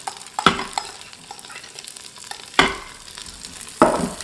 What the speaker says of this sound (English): So we're just going to let this keep on sauteing until the onions become softened.